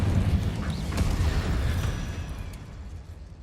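An Incendio fire spell bursts in a Harry Potter game, a loud fiery whoosh and rumbling blast that fades out over a few seconds.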